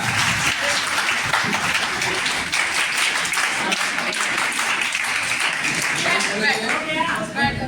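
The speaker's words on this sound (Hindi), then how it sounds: "Give her a good round of applause." A crowd applauds steadily at a college orientation program, a dense wash of clapping that lasts throughout, with voices chattering underneath.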